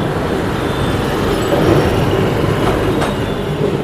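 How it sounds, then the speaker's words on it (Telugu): Chennai–Ahmedabad Express running fast toward Vijayawada, a steady loud rumble of wheels and carriage noise heard from on board, continuous throughout with no talking. "మనకి ఇప్పుడు ట్రైన్ ఫాస్ట్ గా మూవ్ అయ్యి టువర్డ్స్ విజయవాడ వైపు అయితే వెళ్తుంది"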